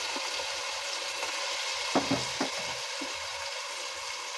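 Ground cumin and garlic pastes frying in hot oil for biryani give a steady, close hiss. A few stirring knocks come near the middle, with no voices.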